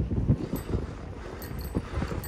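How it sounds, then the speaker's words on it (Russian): A light sea breeze buffets the microphone outdoors by the sea, with low rumbling gusts that rise and fall throughout a short stretch. "Легкий морской бриз дует мне в лицо."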